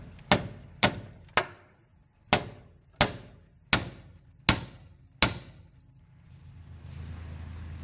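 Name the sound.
hammering out a dent in loader metal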